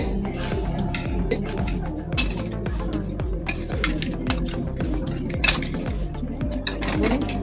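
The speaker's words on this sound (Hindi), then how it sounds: "ये देखें इन तमाम मसालों को हम इस तरीके से मिक्स कर लेंगे।" Spices for Balochi tikka karahi are mixed in a dish with a spoon, giving a steady, close run of clinking and scraping metal against the vessel that continues without pause and with no voices.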